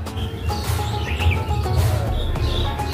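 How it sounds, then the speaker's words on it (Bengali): Birds chirp around a house rooftop, short bright tweets and calls scattered over a breezy background hum, moderately near and repeating irregularly. "পাখির কিচিরমিচির আর অনেক সুন্দর হাওয়া আসে।"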